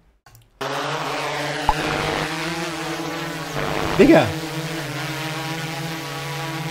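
Loud, steady buzzing drone from a horror game, a constant harmonic hum running throughout with a brief surge midway, while a person speaks over it.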